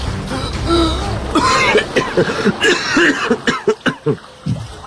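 Harsh, repeated coughing in a rapid rhythm of bursts, close and loud, with a wet, strained quality and a brief voiced sound mixed in.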